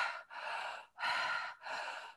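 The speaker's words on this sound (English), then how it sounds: "the open mouth inhale and exhale" Open-mouth breathing, close and airy: a sequence of audible inhales and exhales separated by brief pauses, with no talking.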